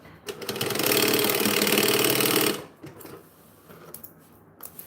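A sewing machine back stitching a lining, a close rapid mechanical whirring run of about two seconds, followed by quieter handling clicks and rustles.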